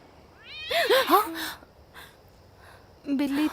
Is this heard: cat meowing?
yes